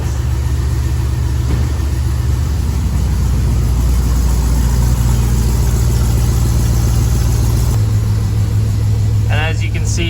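An LS V8 engine in a swapped Chevy K10 truck idles steadily with a deep, even rumble, close and loud, with a brief higher chirp near the end.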